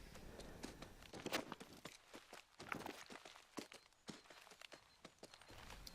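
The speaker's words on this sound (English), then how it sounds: "I hear the footsteps." An animal's footsteps rustle through brush in a hunting video game, a dense run of soft steps and crunches under steady ambient noise.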